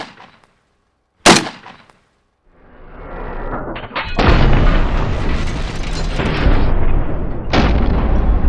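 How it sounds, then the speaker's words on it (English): AK-47 blown apart by a sabotaged round at a ballistic high-speed test range: one sharp, loud blast, a short silence, then a long rising roar of noise that sustains to the end. "Watch, this just blows up the AK."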